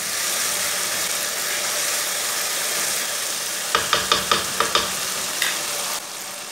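Tomatoes and chillies fry in a pan for Kashmiri chicken, giving a steady, close sizzle throughout, then a quick run of sharp scraping stirs near the end before the hiss drops off.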